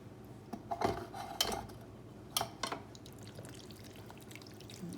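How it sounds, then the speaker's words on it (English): A spoon stirring a tuna mixture with cream of celery soup in a pot, a few metallic clinks and scrapes over soft wet sloshing, close and quiet. "Stir that all up."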